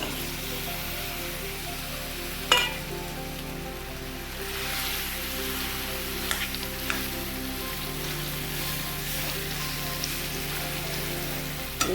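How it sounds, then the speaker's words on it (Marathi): Dates sautéing in ghee in a pan, a steady soft sizzle with occasional light scrapes and taps. "आता आपण ह्याच तुपामध्ये जे खजूर घेतलेले आहेत ते आपण परतून घेणार आहोत."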